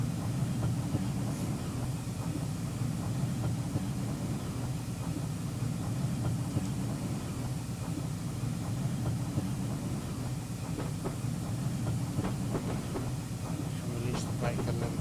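A Saint Class steam locomotive runs on the Severn Valley Railway, heard from the rear of the train as a steady rolling rumble with faint rail clicks and rattles throughout, at moderate distance.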